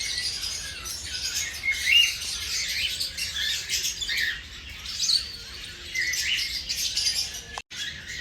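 Cockatiel calls at Sayaji Baug zoo in Vadodara, bright chirps and squawks repeating over a steady wash of other birds in the aviary, moderately close with no talking.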